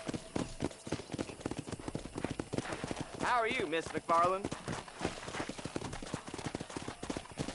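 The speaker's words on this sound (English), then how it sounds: "Control that horse, will ya?" Horse hooves clip-clop steadily in a Western video game, a rhythmic trotting beat running throughout while characters talk over it.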